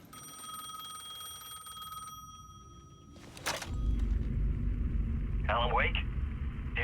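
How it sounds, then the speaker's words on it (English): Payphone ringing in the Alan Wake 2 video game: steady electronic ring tones for about two seconds, then a brief burst and a louder rumbling game ambience with a short warbling sound near the end. "The payphone was ringing again."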